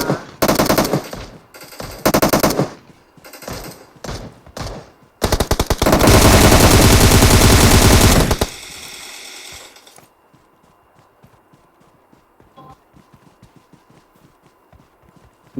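Automatic M762 rifle fire in the game PUBG: several short loud bursts, then a long sustained burst of rapid shots, fading into quiet clicks and scattered faint sounds.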